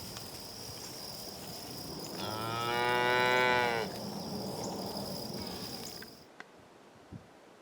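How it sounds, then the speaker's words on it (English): A single long, drawn-out cow moo close by, rising out of a steady background hum of insects, then fading to quiet. "I hear cows real close by"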